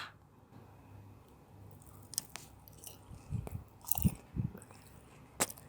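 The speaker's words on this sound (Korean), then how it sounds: "지금 치킨 먹겠습니다" Crunchy fried chicken being bitten and chewed close up, a series of crisp crunches growing louder and denser toward the end, with no talking.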